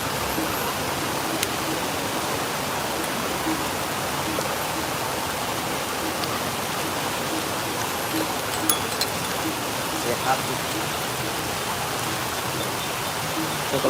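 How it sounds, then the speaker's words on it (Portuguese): Steady rain pours without a break, a dense, even hiss of falling water with a few faint drips and clicks on top and no voices. "Tá chovendo."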